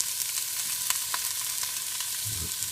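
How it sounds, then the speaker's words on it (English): Chopped onion frying in a pan, a steady hiss of sizzling with scattered light crackles and a faint low thump near the end, close and fairly quiet, with no voices. "you're going to fry this up a little bit"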